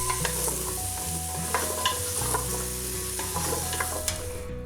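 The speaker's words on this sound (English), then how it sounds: "Then we want to just mix all the thyme and onion mixture and coat all" Butternut squash stirred into a thyme and onion mixture in a pot, with scraping stirs and a steady sizzle underneath, continuous and close with no talk.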